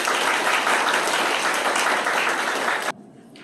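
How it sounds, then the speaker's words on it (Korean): Audience applause welcoming a speaker at a seminar on apartment building facility maintenance, steady moderate clapping for about three seconds that stops abruptly into quiet room tone. "여러분 강구성 우리 이사장님을 큰 박수로 환영해 주십시오"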